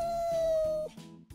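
A kitten stuck up in a tree meows in a cartoon story, one drawn-out plaintive cry followed by a couple of short fainter mews, close and fairly quiet.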